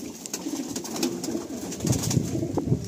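Pigeons of a new bloodline coo in soft, repeated low murmurs close by, a steady burbling chorus across the whole stretch with no talk over it.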